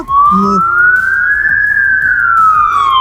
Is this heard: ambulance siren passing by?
yes